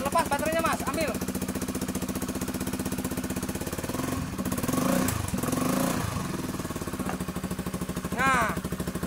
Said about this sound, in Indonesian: Motor ini hidup teman-teman.